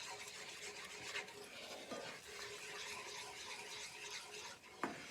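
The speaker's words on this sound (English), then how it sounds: "You want to continually stir this." A wooden spoon stirs a flour roux for seafood gumbo in a skillet, making a continuous soft scraping and swishing with a few sharper scrapes against the pan.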